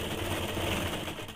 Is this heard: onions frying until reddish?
no